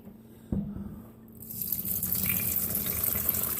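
Cold soaking water drains from a pot during pot roast preparation, beginning with a small splash then building into a steady, close rushing pour that continues to the end.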